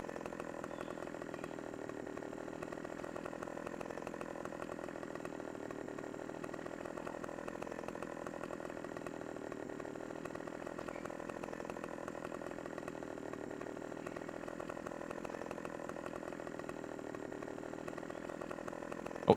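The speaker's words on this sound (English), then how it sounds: "this actually is a fairly good-sized chainsaw" A large chainsaw cutting a tree in Farming Simulator 17 runs as a steady, loud, unbroken drone for the full length, with no break in the engine note.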